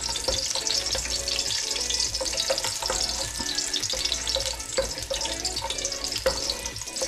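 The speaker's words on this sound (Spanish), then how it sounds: "Ahí lo ponemos a dorar un poquito los ajos." Garlic fries in a little oil in a pan, producing a dense, steady crackling sizzle with faint stirring clicks throughout, close and even in level.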